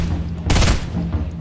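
A single Fortnite gunshot, one loud close blast with a short burst of noise, heard over low game background sound.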